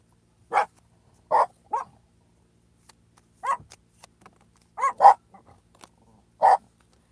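Several household dogs bark in short, sharp bursts, close and fairly loud, spaced irregularly with quiet gaps and a few softer yips between.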